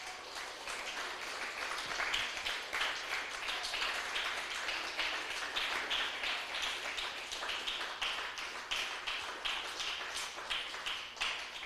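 Church congregation clapping together in praise during a Spanish-language worship service, a dense sustained wash of many hands clapping at steady volume, with no talk over it.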